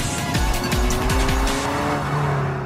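A noisy Alfa Romeo sports car driven hard, engine revving through quick rising and falling sweeps with tyre squeal, loud and close, no talking.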